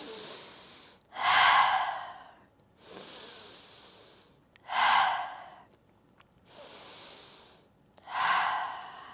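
Slow, steady breathing during a yin yoga session, close to the microphone: three cycles of quieter nasal inhales each followed by a louder, airy exhale through the mouth.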